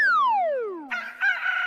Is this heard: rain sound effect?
no